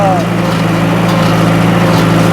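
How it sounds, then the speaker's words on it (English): A 50 horsepower John Deere tractor drives an old New Holland baler, a steady low engine drone with a constant hum and a brief whine at the start, loud and unbroken throughout. "We're running a 50 horsepower John Deere tractor and an old New Holland"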